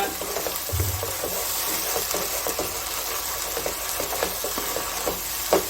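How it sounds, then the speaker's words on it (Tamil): Prawns, ladies finger and onion frying together in a pan give off a continuous loud sizzle, broken by the scraping and stirring of a utensil, with no talking. "இதே வந்து இது கூட நல்லா சேர்த்து ஃப்ரை பண்ணிக்கோங்க"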